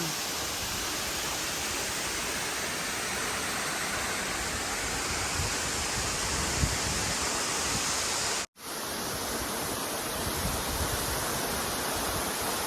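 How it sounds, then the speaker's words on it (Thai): A steady, dense roar of falling water at Tad Heuang waterfall fills the whole stretch, loud and unbroken except for one brief dropout near the end. "มน้ำตกตาดเฮือง สวยงาม"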